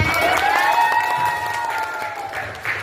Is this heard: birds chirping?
no